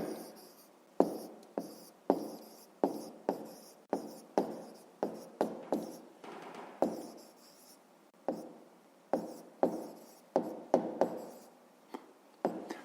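Handwritten answer for a fifth-grade math exercise being written with a pen on paper: a rapid series of short, close scratching strokes in bursts, with brief pauses between words, alone without talk.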